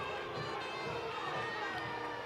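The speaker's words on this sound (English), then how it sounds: "If you guys can hear the crowd noise, they're not too happy with that call" A faint, distant crowd in the stands at a high school football game between Corpus Christi Miller and Rockport-Fulton murmurs and calls out after a referee's call, a brief steady rumble of voices.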